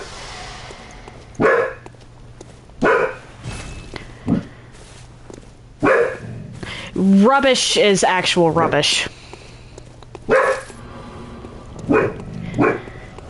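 A dog barks in short, repeated bursts spread across the scene indoors, while a person talks at length during a Bloodborne gaming session.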